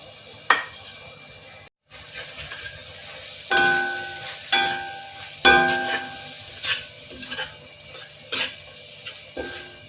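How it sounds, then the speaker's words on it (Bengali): Chicken curry being stirred in a pan after ground cumin, coriander, turmeric and chili powder are added: spoon scrapes and clinks against the pan in irregular strokes over a steady background sizzle of frying. "এটা একটু নাড়িয়ে নিই এইভাবে।"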